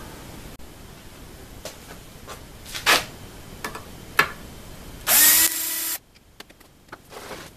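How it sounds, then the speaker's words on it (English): Power drill boring a hole in a part for a CNC mini mill Z axis rebuild, heard as one loud, steady whirring burst of about a second, preceded by scattered clicks and handling knocks. "So we'll use that to go by to drill that hole."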